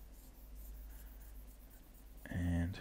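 Pencil strokes scratch steadily on paper while sketching a toad goblin, a continuous soft rasp that swells into a brief, louder rubbing of an eraser near the end.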